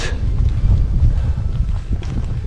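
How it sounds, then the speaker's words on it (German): Wind gusts roar steadily across an exposed spot on a hiking trail in the Altmühltal, buffeting the microphone with a low, continuous rumble. "hier ist der Wind ein wenig aktiv"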